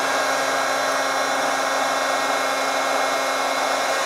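A small handheld heat gun or hair-dryer-style heater runs steadily at close range while an LG Stylo 4 cracked screen is being replaced, a constant broadband blowing whir with no pauses and no talk.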